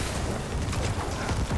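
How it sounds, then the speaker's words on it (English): Dense, rumbling bursts of Necromancer corpse explosions in Diablo 4 pile on top of one another in a continuous roar with no pauses. "Corpse explosions, corpse explosions."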